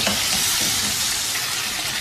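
Dumba mutton sizzles and fries steadily in a karahi, a dense close hiss of hot fat with faint stirring, continuous and loud throughout.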